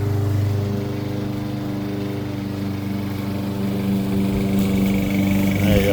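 A lawn mower cuts grass nearby with a steady, loud droning hum that holds for the whole stretch, with a slight swell toward the end and no one speaking over it.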